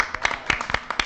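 Audience clapping at a San Gabriel city commission regular meeting, heard as a short run of scattered, irregular hand claps in a large room, moderately loud, with a trace of speech mixed in.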